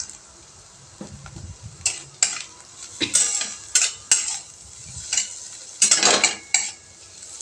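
Potatoes being stir-fried with salt in a pan, with repeated scraping and clanking of a metal spatula against the pan in an uneven rhythm over a faint background sizzle, close and fairly loud.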